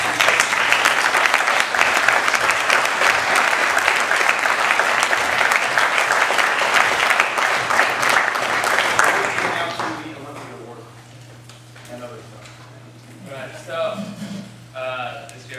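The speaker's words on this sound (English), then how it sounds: "if we could just give a round of applause for both staff" A sports night crowd gives a round of applause for staff, loud, dense clapping held for about ten seconds before fading out as a mains hum and scattered voices remain.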